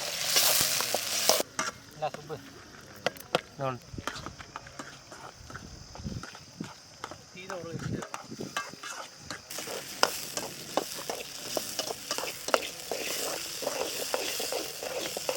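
Small onions frying in sesame oil in a village outdoor cooking setting, with steady sizzling and frequent stirring scrapes and clatters throughout, fairly close.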